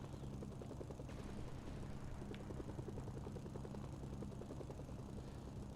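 An Apache-like attack helicopter in the video game Mercenaries 2 flies with a steady rotor chop and engine drone throughout, constant and fairly faint, with no voices.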